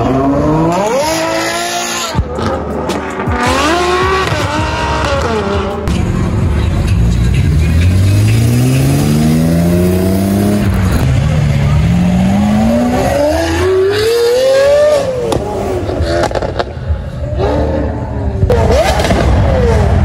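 A Bugatti Veyron hypercar accelerates hard through Miami streets, its engine note rising in long sweeping pitch climbs across several gear pulls, loud and close, with tire noise, other cars and crowd voices around it.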